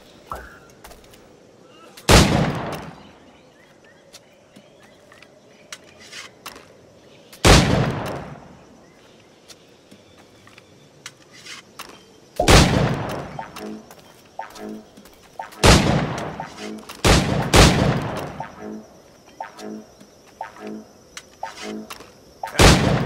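Shots fired at targets in the video game Assassin's Creed IV: Black Flag, sharp single gunshots spaced a few seconds apart, then a quicker cluster of blasts, each ringing out over quiet ambience.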